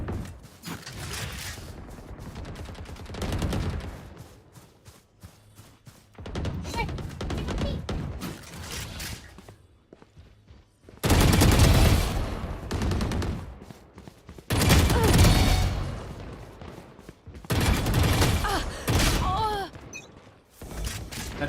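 Bursts of Phantom rifle fire from a Valorant match, loud rapid volleys arriving in several separate clusters with quieter gaps between, a faint voice occasionally underneath.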